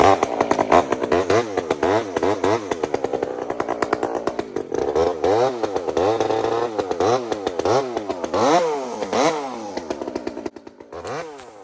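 A Stihl-style model 572 chainsaw started cold, its engine revving loudly and continuously with repeated throttle surges rising and falling, close up with no talk over it.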